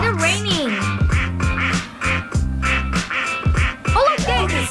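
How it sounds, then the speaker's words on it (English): Repeated duck quacks from a Roblox elevator game, a rapid run of honking calls mixed with excited voices talking loudly over the top. "It's raining ducks!"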